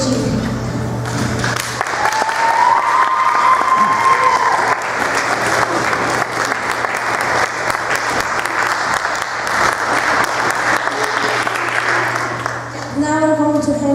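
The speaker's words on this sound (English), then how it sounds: "And finally, we would like the audience to give a round of applause for the person who organized this event, Ms. G." An audience at a research class mock debate gives a round of applause for an event organizer, a loud, sustained burst of clapping that lasts over ten seconds, with a few voices rising briefly near the end.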